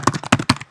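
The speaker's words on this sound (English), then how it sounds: "type in" A short burst of computer keyboard typing: several quick, close, crisp key taps, heard alone.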